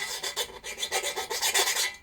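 A round chainsaw file rasps through the teeth of an H. Disston & Sons backsaw under restoration, in quick, even back-and-forth strokes, close and steady, with no talk.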